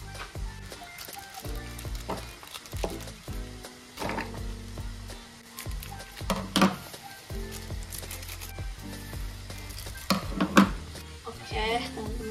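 Onion oil frying cilok in an Indonesian street-snack kitchen gives a steady sizzle with scattered clinks and stirring scrapes, close and moderately loud, with occasional background voices.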